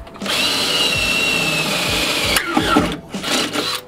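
Power drill boring a hole through the bulkhead of a Bedford CF van, a loud steady whine for a few seconds, then stopping and restarting in short bursts.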